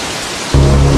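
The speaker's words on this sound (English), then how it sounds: "When it rains here, it pours, transforming the entire Amazon" Heavy rain pours down in the Amazon rainforest as a deep rumble of thunder swells in partway through, loud and close in a single short burst.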